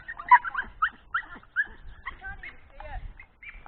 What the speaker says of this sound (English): The dog. Calm down.